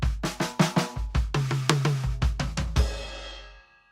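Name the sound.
slow drum fill, bass drum and hands, 16th notes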